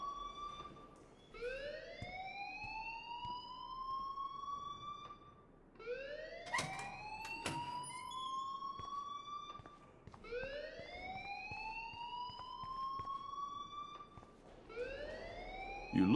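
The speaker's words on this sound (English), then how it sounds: "please turn off that alarm" A fire alarm wails inside the Life Is Strange video game, rising sweeps repeating about every four seconds, loud and continuous, with electronic beeps mixed in and no talk.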